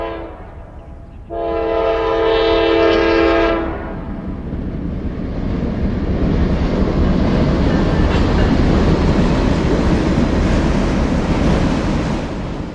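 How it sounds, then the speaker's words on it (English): A westbound Norfolk Southern freight train, train 117, sounds a loud multi-tone horn blast, then rolls past with a steady, heavy rumble and wheel roar that stays close throughout. "Train 117 heads west."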